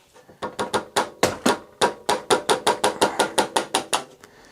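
Hammer tapping the shock off the swingarm of a Yamaha Virago 535 motorcycle: about twenty sharp metallic knocks in a quick, steady rhythm, close and loud, with no talk.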